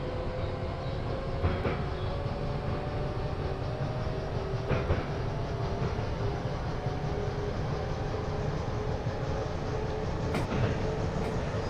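An EMU electric train runs in the Train Sim World game, giving a steady rumbling ride noise with a faint hum and occasional soft clicks. The sound is constant and moderately loud, with no voices.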